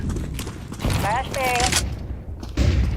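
Gunfire and a grenade blast in a tactical shooter video game, arriving as dense bursts of shots and booms mixed with radio-style team voices and chirps over a constant loud backdrop.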